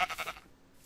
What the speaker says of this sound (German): Ja, blöde Schafe,